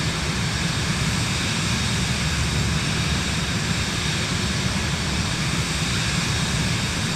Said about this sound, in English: now we gotta land this plane here in a little bit